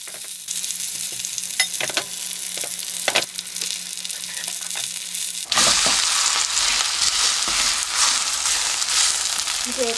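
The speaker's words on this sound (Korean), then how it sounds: "저는 식용유를 조금 넉넉히 넣어서 자글자글 굽는 게 맛있습니다" Lettuce pancake batter hitting plenty of hot cooking oil in a pan, a dense continuous sizzle and crackle that swells suddenly louder halfway through and stays strong, close and without talk.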